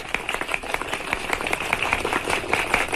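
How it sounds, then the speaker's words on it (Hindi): A group of people clapping their hands together at once, a steady, dense patter of claps that runs for a few seconds without a pause. "इसी बात पे सब बजाओ ताली।"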